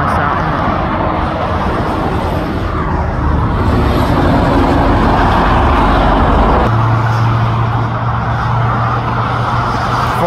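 Steady roar of M20 motorway traffic, vehicles rushing past continuously with a low engine drone rising partway through, loud and close.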